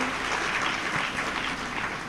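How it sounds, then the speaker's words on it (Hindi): Applause from an audience at a Hindi spiritual discourse, a steady, dense wash of clapping that continues for about two seconds without a break. "आप तो ताली बजाओ, केवल ताली"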